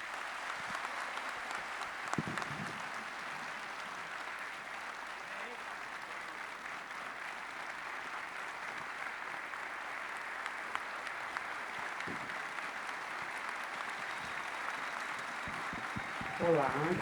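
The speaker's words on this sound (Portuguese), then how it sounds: "eu peço uma salva de palmas ao nosso homenageado" Steady applause from a ceremony audience honoring a company's founding partner and CEO, a dense even wash of clapping holding for the whole stretch, moderately distant, with a brief louder burst near the end.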